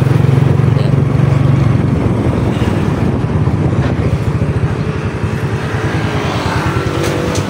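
A noisy Honda XR200 motorcycle engine idles loud and close in a repair shop, a rapid, rough pulsing chug that holds steady throughout with no talk.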